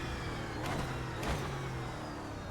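Euro NASCAR V8 race car engine in the iRacing video game, a steady mid-pitched engine drone with a couple of brief revving swells, loud and continuous throughout with no talk.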